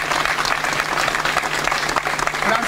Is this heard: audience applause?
yes